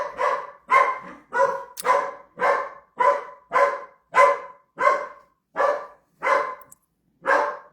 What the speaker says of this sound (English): And Bessie is barking, so I apologize for that.